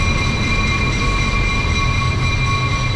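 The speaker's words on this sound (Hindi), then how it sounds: "ट्रेन स्टेशन पर पहुँच चुके हैं। ये ट्रेन स्टेशन है।" A train station in Jamaica, New York, fills with a steady loud rail drone, a low rumble under sustained high whining tones, with no voices.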